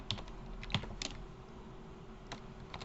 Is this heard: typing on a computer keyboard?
yes